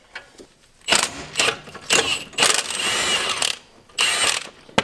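A ratchet works on an 18 millimeter nut on a car, producing several separate bursts of rapid clicking, some short and one longer run, fairly close with quiet gaps between.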